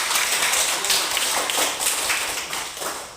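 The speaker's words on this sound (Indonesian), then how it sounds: "Ayo mari kita memberi aplaus lagi." Primary schoolchildren applaud in a religious education class, a broad, continuous wash of many hands clapping that swells and eases over a few seconds.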